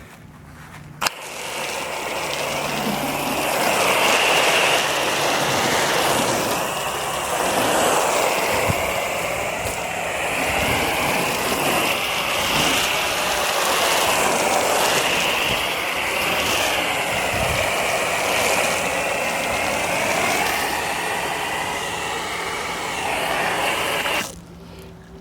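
A foam cannon sprayer gives a steady, loud hissing spray for over twenty seconds close by, with a faint motor hum beneath, then stops abruptly.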